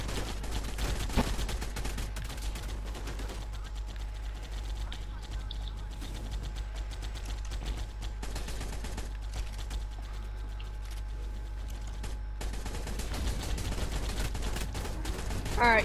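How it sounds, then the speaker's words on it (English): Rapid, dense gunfire from a gun battle in the video game Ark, shots crackling in a near-continuous stream for the whole stretch, loud and close over a steady low hum. "Me and him are having a gun battle"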